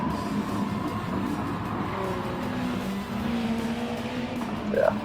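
GT500 race cars in Gran Turismo 7, engines droning steadily at a middle distance with shifting pitch as the cars run, and a brief tire squeal near the end.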